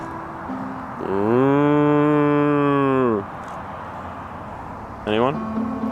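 Cows overrunning a campground give one long, loud, close moo, then a shorter call a couple of seconds later, over steady outdoor background noise.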